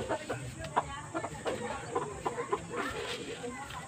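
Young Shamo chickens, tall four-month-old birds in a pen, give scattered soft clucks and short calls at moderate distance, with some background noise.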